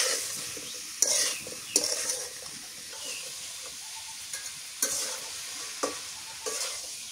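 Homegrown eggplant and a raw tomato fry in oil in a pan over a village clay stove, a continuous sizzle broken by sharp metal spoon scrapes and knocks as they are stirred, close up.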